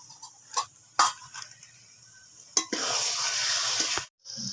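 Cabbage is stir-fried with spices in a pan, with a few sharp scrapes and clatters of a spatula followed by a steady close sizzle that cuts off briefly near the end.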